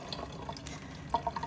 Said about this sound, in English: Let me turn the water back down. I do still need to have it dripping tonight.